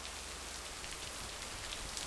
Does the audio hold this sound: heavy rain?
yes